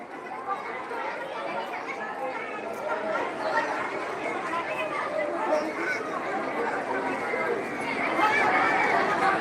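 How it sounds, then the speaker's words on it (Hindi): A large crowd chatters steadily throughout at a Mahashivratri Shiva procession in Bajpatti, near the Madhuban market, forming a dense, continuous hubbub of many voices that swells slightly toward the end. "देखिए कितना ज़्यादा भीड़ है।"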